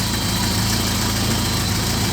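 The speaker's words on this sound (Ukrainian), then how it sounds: "Я думаю, що є пропуски, напевно, по зажиганню. Бачите, мотором трошки трясе." A BMW M40 car engine idles roughly with ignition misfires, a steady, close, low rumble running throughout with a slightly uneven shake and no voices.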